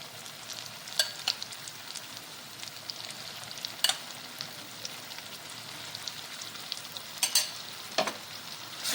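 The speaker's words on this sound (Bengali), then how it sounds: "এবার ম্যাশ করা বেগুনটা আমি দিয়ে দেবো" Mashed eggplant frying with spices in a pan for begun bharta, a soft steady sizzle broken by a few sharp scrapes and clinks of stirring, close and alone.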